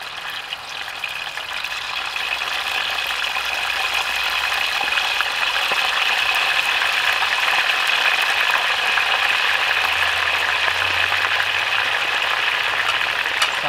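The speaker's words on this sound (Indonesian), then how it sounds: "kita tinggal goreng ayam" Chicken frying in oil in a pan at a solo riverside campsite in the forest, a steady, loud, continuous sizzle with no talk.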